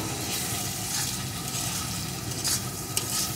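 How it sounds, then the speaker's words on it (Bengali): Spice paste for chicken curry being stir-fried in a pan, a steady low sizzle with scraping stirring strokes throughout, close and continuous with no talk. "এখন বেশ কিছুক্ষণ ধরে মশলাটাকে আমি কিন্তু সুন্দর করে কষিয়ে নেব"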